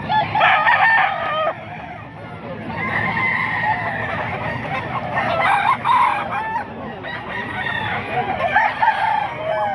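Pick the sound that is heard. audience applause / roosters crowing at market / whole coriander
roosters crowing at market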